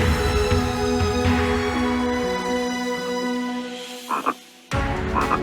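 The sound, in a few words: green frogs and common frogs croaking in floodplain wetland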